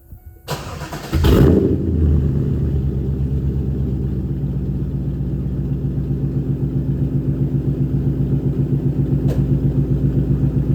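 A stone-cold 1996 Pontiac Trans Am WS6 engine cranks briefly, fires and settles into a loud, close, steady idle rumble with a faintly pulsing rhythm.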